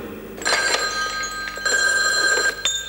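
A telephone bell rings twice in a 1997 French television commercial, each ring a bright, metallic trill, with a brief pause between them.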